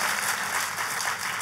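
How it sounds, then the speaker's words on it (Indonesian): A church congregation claps for Jesus during a sermon, a steady wash of applause at moderate level, with no talking. "Tepuk tangannya bisa lebih meriah lagi buat Yesus Tuhan kita."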